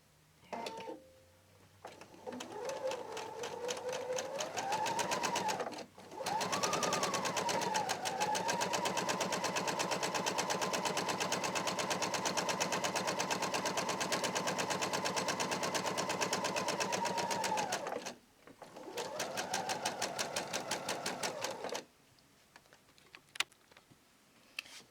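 A sewing machine hemming fabric panels for a parasol cover, running in long steady buzzing stretches with brief stops and speed changes between runs, close and continuous.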